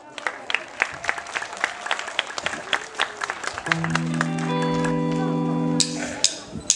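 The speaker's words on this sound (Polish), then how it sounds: "Brawa!" Scattered audience clapping greets a singer at a performance, sharp uneven claps that fade as a sustained synth chord swells in beneath them, with a few more claps near the end.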